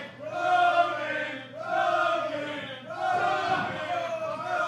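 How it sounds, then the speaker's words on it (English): A large crowd at an independent wrestling match chants in unison, three long rhythmic swells of voices rising and falling in a sustained, loud, cheering cadence. "Crowd's getting behind him, chanting Rogaine."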